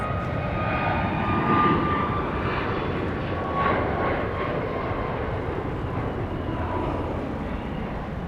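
Steady broadband roar of a fixed-wing aircraft engine at Dallas Love Field airport, continuous and fairly loud throughout with a faint passing whine, no talk.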